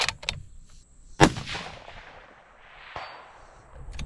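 Rifle fitted with a TMB muzzle brake firing at a small steel plate outdoors, with sharp close shots followed by a fainter distant report, each ringing briefly.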